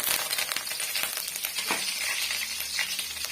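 Curry leaves hit hot oil with mustard seeds for a Chettinadu oil brinjal kuzhambu, giving a steady bright sizzle and crackle throughout, with a few pops and stirring scrapes, no talking.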